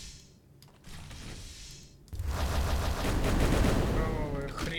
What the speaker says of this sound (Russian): Сзади, по-моему, выстрел был, да?